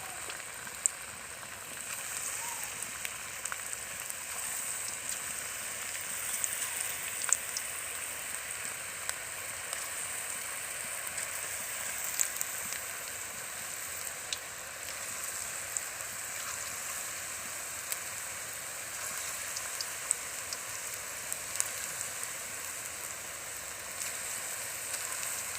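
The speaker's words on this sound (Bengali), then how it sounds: "পকোড়াগুলো কিন্তু আমি হাই ফ্লেমে ভাজবো।" Chicken pakoras deep-frying in very hot oil over a high flame make a steady, even, moderately faint crackling sizzle that runs unbroken for the whole stretch with no voices.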